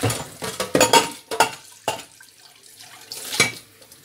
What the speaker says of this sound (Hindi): ये बर्तन से मैं पहले इनको धो लूँ।